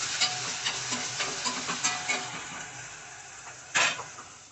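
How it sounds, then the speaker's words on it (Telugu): Cumin, cardamom and other whole spices fry in hot oil in a pan for aloo kurma, with a continuous crackling sizzle broken by small pops and stirring scrapes and a sharper burst near the end. "జీలకర్ర కూడా యాడ్ చేసుకొని ఫ్రై చేసుకోవాలి"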